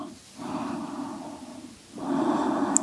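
Slow, audible breaths drawn in and let out during a still yin yoga pose, two long airy exhalations close to the microphone with a quiet pause between them and no speech.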